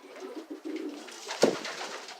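Pigeons coo softly in a loft, a low murmuring series with one louder close coo near the middle over quiet background rustle.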